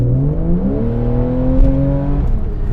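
Porsche 911 (991) Carrera 4S with a naturally aspirated engine in sport mode, a loud, close, throaty engine note whose pitch climbs steadily through a gear and then shifts, with no speech over it.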